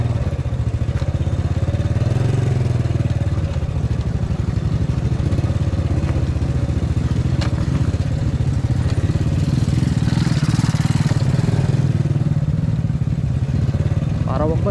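A motorcycle rides slowly down a rough mountain road at Mount Balagbag in Rizal, Philippines, its engine chugging loud and close in a steady low drone throughout, with faint clatter from the bumpy track.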